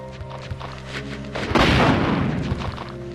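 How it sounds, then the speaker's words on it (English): A rocket launcher fires in Resident Evil 2 with one heavy, booming blast that lingers in a dense rumble over a steady background of game music. "Using a rocket launcher is just fun."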